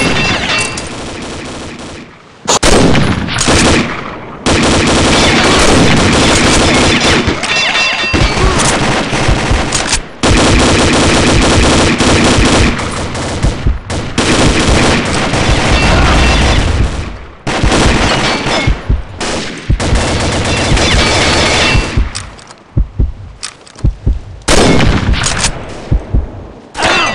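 Gunfire and explosions in the online shooter Combat Arms come in long, loud, dense bursts with brief gaps. Deep booms mix with rapid shots, and a few short pauses break the sustained barrage.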